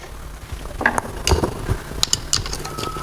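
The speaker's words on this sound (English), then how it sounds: "I open the cylinder head bolt" A ratchet wrench loosens cylinder head bolts on an engine during piston ring removal, giving bursts of close, crisp ratcheting clicks and metallic clatter with no talk.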